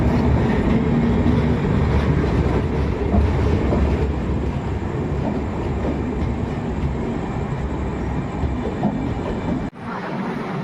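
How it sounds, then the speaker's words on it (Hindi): Express train 18574 Bhagat Ki Kothi–Visakhapatnam pulls out of Sawai Madhopur Junction after a locomotive reversal, a loud continuous rumble with clattering wheels on rails, the sound shifting abruptly near the end. "तो ट्रेन डिपार्चर ले रही है Sawai Madhopur junction railway station से लोको रिवर्सल के बाद"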